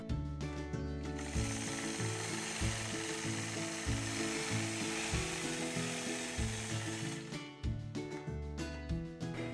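A quilting machine stitches a partial feather border along a Sway quilting ruler, giving a steady mechanical hum and rapid stitching drone with a brief pause partway through, moderately loud and alone.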